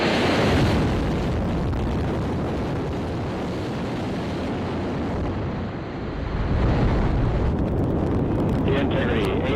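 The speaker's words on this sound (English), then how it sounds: "That is the moment that Artemis 2 launched from Cape Canaveral, Florida, late Wednesday afternoon." Artemis II rocket engines at launch from Cape Canaveral, Florida roar in a deep, continuous rumble that stays loud and steady throughout.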